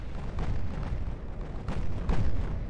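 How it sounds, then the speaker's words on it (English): Repeated heavy torpedo strikes on a warship in the naval game Ultimate Admiral: Dreadnoughts, rumbling booms layered over a continuous low roar, with two stronger hits standing out near the end. "You got hit by a torpedo. Several times."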